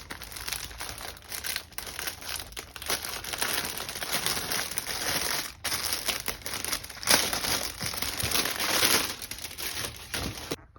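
Plastic wrapping crinkles and rustles continuously as a sneaker package is opened, close and steady with brief pauses, no talk over it.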